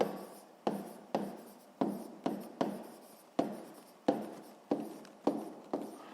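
Pen scratching on paper while writing out a sixth-grade math solution: about a dozen short, close strokes in an uneven rhythm, each starting sharply and fading, quiet and without speech.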